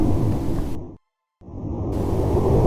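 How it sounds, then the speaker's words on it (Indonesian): Deep rumbling sound effect for a dragon answering from a hill, a loud low roar that cuts to silence for a moment and then swells back in. "diikuti suara gemuruh"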